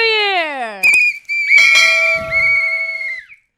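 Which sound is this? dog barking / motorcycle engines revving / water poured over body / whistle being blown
whistle being blown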